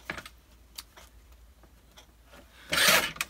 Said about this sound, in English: I just trimmed 1/4 inch off of the sides of both tags